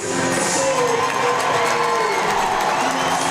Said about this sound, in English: Archie Hazeldine, like Jack Hopkins, gets a massive cheer and a round of applause from Blaze fans